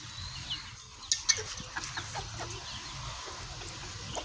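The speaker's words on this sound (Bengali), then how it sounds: "আমার দেশি মুরগিগুলা বিকালে গম দিছি খাওয়ার জন্য" Desi hens clucking as they are fed wheat in the afternoon: soft overlapping clucks with a few sharper calls near the start, over steady low farmyard noise, with no voices.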